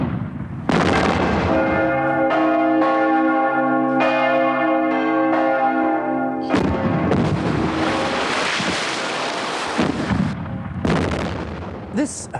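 A church bell tolls with a ringing, sustained tone and decaying overtones, then booming bombard artillery fire breaks out in several loud, sharp blasts with rumbling tails.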